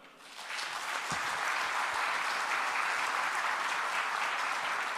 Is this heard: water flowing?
no